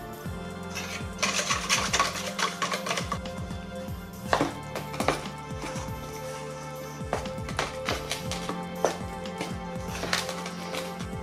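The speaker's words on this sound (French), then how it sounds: "Quand ça devient compliqué de mélanger avec la cuillère, on malaxe avec les doigts." A spoon mixes flour into vegan tielle dough in a bowl, making irregular close scraping and tapping clicks against the bowl.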